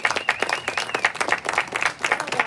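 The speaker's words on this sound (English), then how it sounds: "we need to give a big round of applause for our worship leaders" Applause from the congregation at an outdoor church service for the worship leaders, a steady wash of many hands clapping close by, with faint cheers or whoops rising through it.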